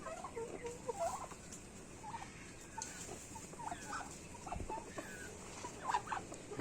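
Turkeys in a small backyard poultry area give scattered gobbles and fowl calls, fairly faint and distant over a low ambient background, with no talking.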